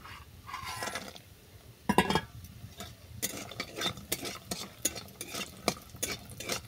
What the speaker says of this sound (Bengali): এই তেলেই বড়িটাকে ভেজে নেব